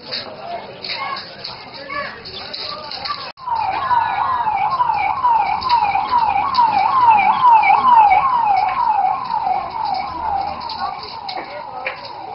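Wailing siren of a fire brigade vehicle responding to a bank branch fire in Chaibasa, rising and falling in a fast repeating warble, loud and steady after a quieter opening stretch, with crowd noise underneath.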